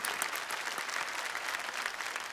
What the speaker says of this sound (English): a huge round of applause to our state winners once again